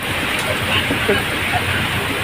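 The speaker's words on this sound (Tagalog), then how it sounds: "hindi na to ulan. Ha, bagyo na talaga to." Heavy typhoon rain at El Nido on an island-hopping trip, a steady loud roar of downpour without pause, close and continuous.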